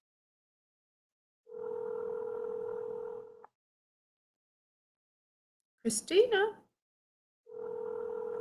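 Telephone ringback tone repeating unanswered on a call, two long steady buzzing rings separated by silence, with a brief spoken name in between.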